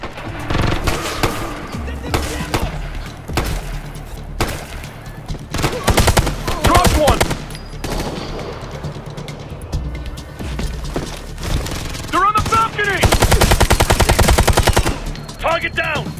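Repeated rifle and machine-gun bursts ring out in the video game Ghost Recon Future Soldier, loud and close, in clustered volleys with crashes and game voices shouting between them.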